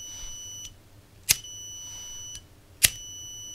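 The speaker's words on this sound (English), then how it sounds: "Also, you can hear it, the piezo is beeping." A piezo buzzer on a flame sensor module beeps twice, sharp and high-pitched, about a second and a half apart, with faint tonal hum between the beeps in a quiet room.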